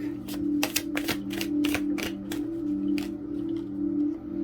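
Tarot cards are shuffled by hand in quick, crisp riffling bursts, a rapid series of close, sharp flutters and snaps over a steady low hum.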